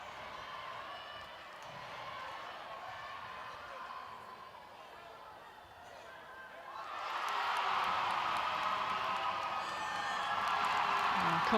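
A netball crowd at a youth world cup match between Botswana and Wales fills the arena with steady murmur that swells into louder cheering partway through, while a commentator talks over it.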